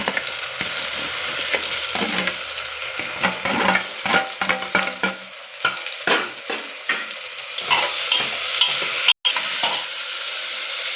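Chopped tomatoes sauté with onion and ginger-garlic paste in a pan for a mushroom gravy, a constant close sizzle under repeated stirring, scraping and mashing strokes, with one brief dropout.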